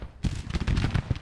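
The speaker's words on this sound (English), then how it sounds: "Firing, start firing." Musket volleys in a Civil War battle video game, a rapid ragged series of sharp cracks and pops layered over one another, loud and close for about a second with no voices.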